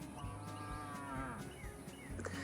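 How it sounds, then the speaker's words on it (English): Cows moo outdoors at a Louisiana campsite, several low, drawn-out calls overlapping at moderate distance amid faint background rustle. "saying hello to the cows"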